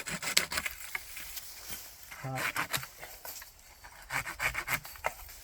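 Tree branches are cut while pruning, with quiet rasping strokes of a saw or shears on wood in short bursts, and a person speaking softly between the cuts.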